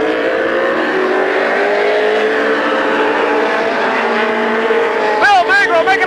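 Race cars roaring around Midvale Speedway at a 1991 short-track race, a loud sustained pack of engines under constant announcer commentary, with a brief burst of rising and falling engine pitch near the end.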